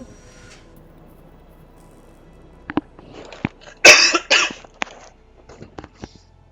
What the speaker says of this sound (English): I apologize if you hear me coughing